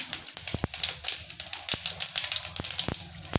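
Cumin seeds and dried red chillies fry in hot oil for a lentil dal tempering, a close, steady sizzling hiss broken by scattered sharp pops and crackles, with no voices.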